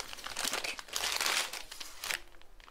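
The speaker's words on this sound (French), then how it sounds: "donc c'est une enveloppe bulle" A bubble-padded envelope is handled and torn open up close, with continuous crinkling and crunching of plastic and paper in bursts that fade toward the end.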